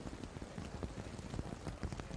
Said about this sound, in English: Our view from inside the powerhouse is of some quite heavy rain.